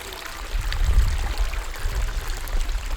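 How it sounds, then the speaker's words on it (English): Water from a pondless waterfall, its liner replaced and rocks reset, flows and splashes in a steady broadband rush with low churning, close and continuous with no talk. "And listen to that water."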